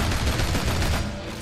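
Gunfire in the video game Shank, a brief, loud, rapid volley of shots fired in quick succession.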